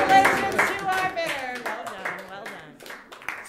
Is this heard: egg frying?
no